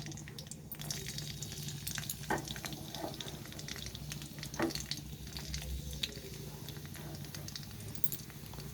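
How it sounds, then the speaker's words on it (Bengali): Chopped garlic fries in a pan for a bean bhorta, making a steady, close sizzle with faint crackles and a few clinks, continuous from start to end. "এই রসুনটাকেও আমি একটু ভেজে নেব"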